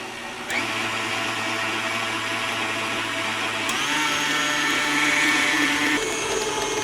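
An electric mixer beats the liquid ingredients for pączki (Polish jelly doughnuts) in a continuous whirring drone, close and steady, with a slight shift in pitch as the motor loads partway through.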